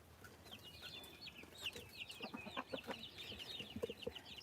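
Chickens cluck and chatter in a steady, busy stream, with a few high calls rising over a faint low background hum on a small home flock in Georgia.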